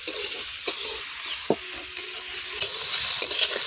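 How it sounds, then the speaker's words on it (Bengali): Onions fry and sizzle in a pan for a dhaba-style egg curry, a steady hiss with a few sharp scrapes of a spatula stirring against the metal. "আমাদের পেঁয়াজটা খুব সুন্দর করে ভাজা হয়ে গেছে"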